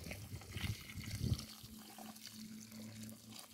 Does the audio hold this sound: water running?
yes